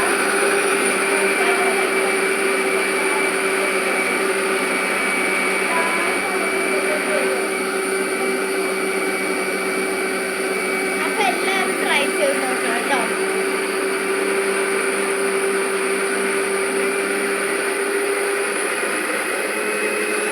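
A mixer jar blends fruit juice, its motor giving off a steady, loud whine that holds unbroken for the whole stretch, with a brief faint voice partway through.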